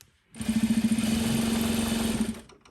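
A sewing machine stitches the sides of a white party dress in one steady burst of about two seconds, starting with quick rhythmic pulses that smooth into a fast even whir before stopping; close and clear, no talking.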